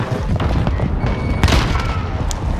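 Grenade explosions in a first-person shooter, loud booming blasts and thuds over dense battle noise, close and forceful, with no talking.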